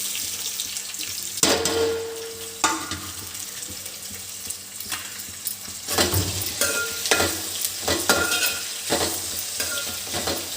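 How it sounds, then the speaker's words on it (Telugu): Onion pieces dropped into hot oil for chicken curry, a steady close sizzle broken by sharp clatters as pieces land and are stirred, with occasional metallic scrapes. "ఇప్పుడు ఇగో ఉల్లిపాయ నూనె వేడెక్కింది కదా, వేసాను. ఇప్పుడు ఇగో ఉల్లిపాయ ముక్కలు వేస్తున్నాను."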